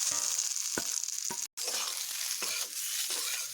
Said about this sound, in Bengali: এবার আমি বাকি যে আমার আলু ও পটলগুলোকে ভেজে রেখেছিলাম ছেড়ে দিচ্ছি আমি সেগুলোকে